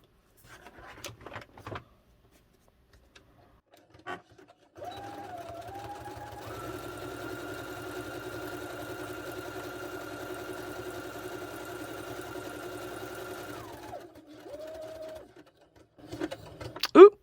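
A sewing machine runs a zigzag stitch through a paper journal page, a steady close mechanical whir lasting several seconds with brief starts and stops around it.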